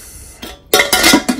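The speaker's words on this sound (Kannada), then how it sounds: "Prestige cooker" A small 2–3 litre stainless steel Prestige pressure cooker is handled, giving a few close metallic knocks and clinks after a quiet start, with brief scraping between them.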